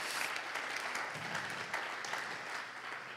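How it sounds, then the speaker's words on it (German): A church congregation claps steadily in a dense, sustained round of applause, with a voice faintly underneath. "Da können wir ihm auch einen Applaus geben."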